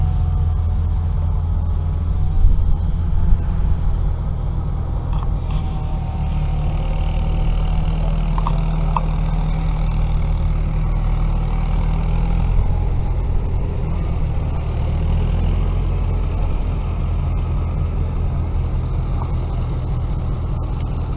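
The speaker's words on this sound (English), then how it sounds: "I believe here we have a very original Silver King tractor." An original vintage Silver King tractor engine idles at a threshing show in Dalton, Minnesota, a steady low rumbling chug that holds evenly throughout, with faint background noise and no talk.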